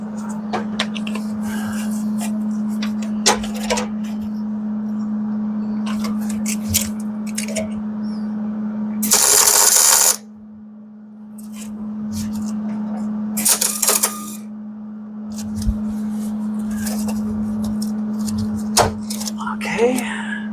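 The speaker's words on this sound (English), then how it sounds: "and then we'll put a good weld on" A MIG welder tacking pieces of metal together gives two short, loud crackling bursts about four seconds apart. A steady low electrical hum and scattered clicks and knocks run between them.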